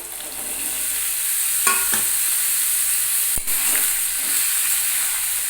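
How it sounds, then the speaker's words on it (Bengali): Chunks of potato and pumpkin fry in oil in a pan over a medium gas flame, a loud continuous close sizzle with a couple of brief scrapes as they are moved about. "কুমড়ো এবং আলুটাকে ভালো করে ভাজতে হবে"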